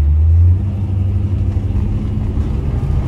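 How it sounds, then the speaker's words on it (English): Close, loud low rumble from a 1977 Pontiac Trans Am SE400 engine on a test drive, swelling briefly at the start and then holding a steady deep drone, with no talking. "How the car drives, how the car stops, how the car runs, how the car sounds, okay?"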